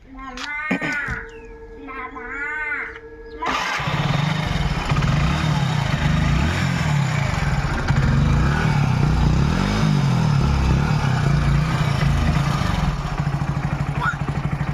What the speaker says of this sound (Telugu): ఇక ఇంజిన్ స్టార్ట్ చేసి చూపిస్తారు చూడండి.